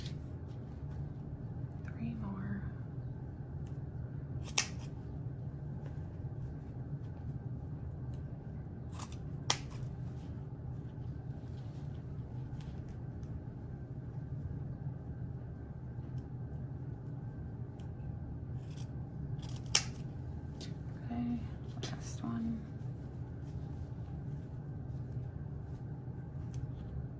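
Scissors snip through ribbon while a large bow is tied, with a few sharp, isolated cuts spaced several seconds apart over a quiet room background.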